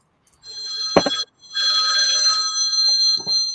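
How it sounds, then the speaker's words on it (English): A phone chimes with a notification alert, a bright electronic ringing tone that sounds in two bursts with a short gap between, loud and close in a quiet room. "phone notifying him that I went live"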